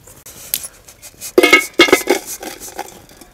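A metal cooking pot is set down on a stove and jaggery goes in for Telugu arisalu, with two sharp close clanks among softer clinks and scrapes, no talking.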